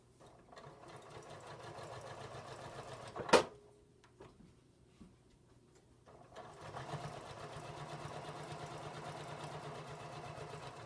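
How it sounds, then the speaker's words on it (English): Serger sewing machine stitching a placemat sample, a steady close mechanical whir running for about three seconds, a sharp clack, a brief pause, then the motor starts up again and runs evenly to the end. "I'm going to try to do a little better job of sewing straight on this"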